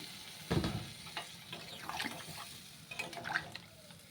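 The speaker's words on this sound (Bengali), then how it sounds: "এখানে আমি এখন মাপ মতো একটু জল দিয়ে দিলাম মাংসটা ভালোভাবে সিদ্ধ হওয়ার জন্য" Water poured from a measure into mutton cooking in a pot, heard as a faint splash and trickle in short bursts with pauses between them, close by and quiet.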